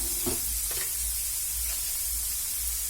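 Onions sautéing with salt and green peas in a pan for samosa filling: a steady soft sizzle with a few scraping stirs near the start, close and moderately loud, no voices.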